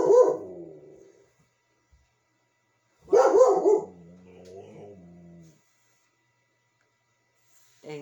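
A dog barks in two sharp bursts a few seconds apart, the second followed by whining, with a short yip at the very end; fairly close and loud, with no other talk.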